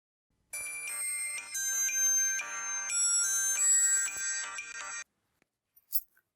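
An electronic phone ringtone plays a steady repeating melodic tone for about four and a half seconds and then cuts off, loud and close, with a faint short blip afterward.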